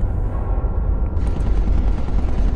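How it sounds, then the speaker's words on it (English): Dense, rapid gunfire in the video game SCP Containment Breach rattles continuously with booming low rumble, loud and sustained like an ongoing firefight. "I hear gunfire!"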